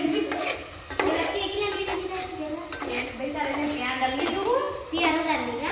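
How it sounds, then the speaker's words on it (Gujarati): Onion fries in oil in a pan with a sizzling crackle, broken by repeated stirring and scraping of a utensil against the pan, close up, with a voice talking over it. "હવે અત્યારે મારી ડુંગળી કકડાવું છું તો હું એમાં નાખું છું તેલ"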